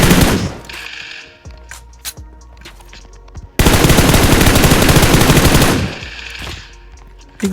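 Gunfire in the PUBG mobile battle royale game, with a few separate loud shots echoing first and then a sustained full-auto burst of about two and a half seconds, close and loud, with no talking.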